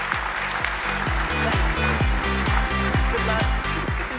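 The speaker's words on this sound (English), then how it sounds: "But a round of applause for SriDevi." Audience applause at an awards ceremony honouring outstanding achievement in cinema, heard as a dense, steady wash of clapping with a low rumbling undertone running the whole time, loud and unbroken, with no talk over it.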